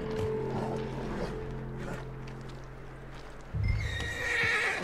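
A horse gives a loud whinny that rises and then trails off, over a steady background hum, in the video game Red Dead Redemption 2.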